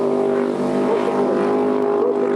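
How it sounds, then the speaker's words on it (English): A powerful race boat engine roars at full throttle, a steady, loud drone with a deep harmonic hum that barely changes over the whole stretch. "Then back on the throttle, full noise"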